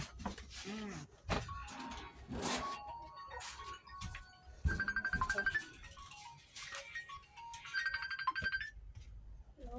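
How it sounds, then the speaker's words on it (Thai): Telephone ringtone, a repeated bright electronic melody in short bursts, moderately loud and close, with brief scattered voice sounds and clatter in between. "เสียงโทรศัพท์"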